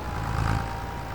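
A tractor engine runs steadily in the Farming Simulator game, a low continuous rumble at even loudness with a slight swell partway through, no voices over it.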